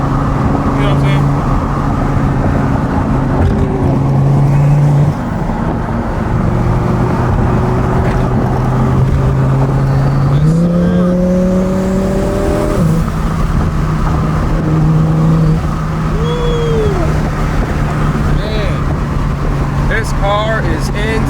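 A 1000 hp twin-turbo Lamborghini drives at speed in Mexico, its engine droning steadily with rising pitch sweeps as it revs and shifts, loud and close from inside the car, with someone talking over it.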